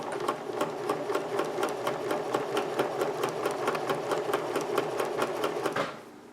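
A sewing machine stitches down the side seam of a girl's nightgown skirt, running as a steady, fast, evenly pulsing whir for about six seconds before stopping abruptly, close and with no talking.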